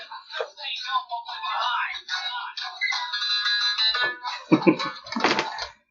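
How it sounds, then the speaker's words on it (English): A phone rings with an incoming call, its warbling electronic tone repeating for several seconds, loud and close, while people talk over it. "We're going to take a quick break while Steve takes a phone call from his daughter"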